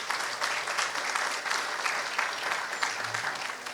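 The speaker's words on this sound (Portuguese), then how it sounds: "Uma salva de palmas aí para os advogados" Steady applause from a crowd, continuous clapping at a moderate level throughout, without a break.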